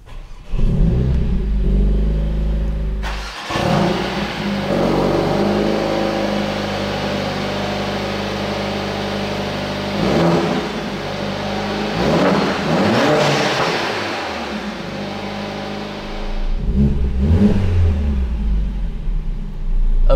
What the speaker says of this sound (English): It has the Akrapovic exhaust system. So I will put my foot on the brake and let's hit the button to start.